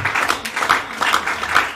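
A church congregation applauds in a steady, fairly loud wash of clapping from many hands that holds for the whole moment, with a few sharper claps standing out rhythmically near the front.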